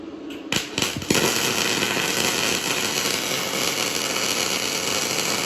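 Metal is being welded, with a few sharp crackles as the arc strikes, then a steady harsh buzzing hiss that holds close and loud to the end, without speech.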